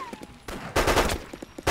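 Gunshots fired at a zombie in DayZ Epoch crack out in a quick, uneven string, with a few light pops, then a loud burst of several close shots, then more scattered shots.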